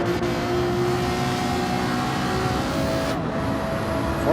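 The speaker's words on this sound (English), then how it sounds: "Yeah, that 296 sounds crazy." A high-revving Ferrari 296 race car engine in Gran Turismo 7 drones steadily, holding a loud, even tone with a slight shift in pitch near the end.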